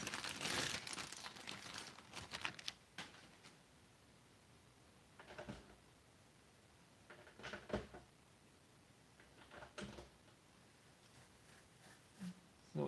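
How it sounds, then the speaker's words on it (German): A plastic bag is rustled and crinkled in irregular bursts, louder at the start and then intermittent, close to the microphone in an otherwise quiet room with no talk. "ich hatte irgendwo noch eine Tüte mit 4er Modified"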